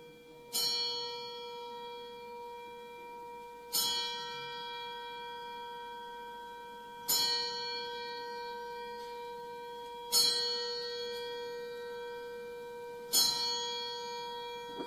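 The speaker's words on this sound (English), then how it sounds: "Ladies and gentlemen, 10 bells for Robbie Davies Sr." At a professional boxing event, a bell rings five separate strikes in a ten-bell salute, each a bright ringing tone that slowly fades before the next, spaced evenly about three seconds apart in a quiet hall.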